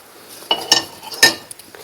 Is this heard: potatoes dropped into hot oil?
yes